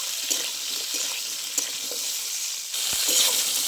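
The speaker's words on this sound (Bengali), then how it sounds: "নুন দিয়ে একটু নেড়ে চেড়ে নেব।" Sliced ridge gourd and potatoes sizzle in a hot pan as they are stirred with salt. The frying is a steady hiss, and a utensil scrapes and taps against the pan here and there.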